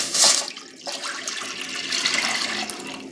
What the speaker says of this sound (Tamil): அந்த தண்ணியை ஊற்றுறேன்